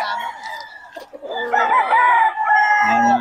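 Lemon sweater full stag roosters at a farm crow loudly and close, one crow following another, with a short cluck in between.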